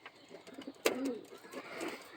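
Pigeons of the Madras breed coo softly nearby while one bird is caught and handled, with a sharp flutter or handling burst partway through and low background murmurs.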